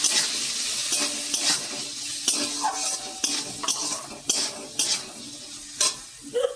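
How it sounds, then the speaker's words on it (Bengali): A spoon stirs chopped snake gourd greens, seasoned with salt and turmeric, as they fry in a pan for a curry. Scraping strokes clack against the metal in an uneven rhythm over a constant close sizzle. "নেড়ে চেড়ে ভালো করে ভেজে নেব।"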